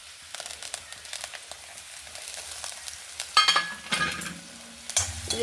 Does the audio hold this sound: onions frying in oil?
yes